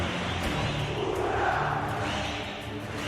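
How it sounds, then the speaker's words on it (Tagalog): Crowd at the IEM Rio Major 2022 Counter-Strike semi-final, Heroic facing FURIA, roars in a broad, sustained wash of cheering that swells in the middle, with a commentator's voice faintly underneath. "Man. And the crowd."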